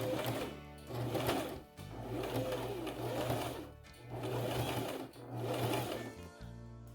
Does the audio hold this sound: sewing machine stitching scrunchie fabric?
yes